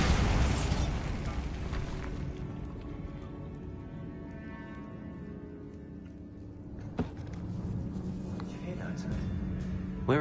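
A Bombarda blasting spell detonates in a Harry Potter video game set in a tomb: a loud low burst at the start that rumbles and decays, followed by a quieter sustained ambience and another sharp crack later on.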